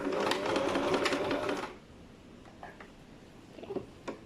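A sewing machine runs a line of gathering stitches at close range, whirring steadily for under two seconds before it stops, followed by a few faint clicks and quiet handling noises.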